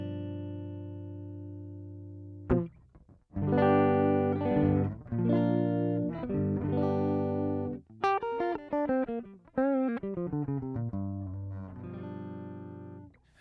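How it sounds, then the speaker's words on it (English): An electric guitar played dry through a recording setup with the amp effect switched off, sounding clean sustained notes and chords, then picked melodic runs, clear and close with no talk. "So here's the sound of the guitar without the effect."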